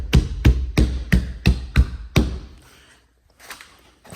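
Six or seven sharp knocks on the driver's side door panel of a second-generation Dodge truck come at a steady beat and are loud and close. A pause follows, then a softer rustle.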